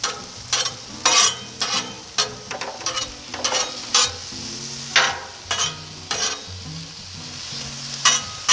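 Heart-shaped steaks sear on a Blackstone 28-inch Pro flat-top griddle, a steady sizzle punctuated by scraping and clattering as the meat is flipped and pressed, close and fairly loud with no talking.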